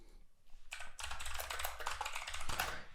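Rapid typing on a computer keyboard while entering code for a Python web app, a steady patter of close, crisp key clicks with brief pauses and no talking.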